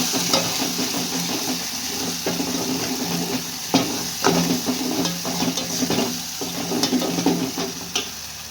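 Fish with onion, garlic and masala sizzles in a pan as it is stirred, a steady frying hiss broken by soft scraping knocks of the spoon, close and alone.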